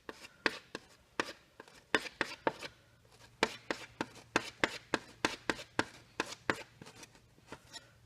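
Sap green and Van Dyke Brown oil paints being mixed on a palette with a knife or brush, giving a quick run of sharp, close tapping and scraping strokes in an irregular rhythm, with no voices.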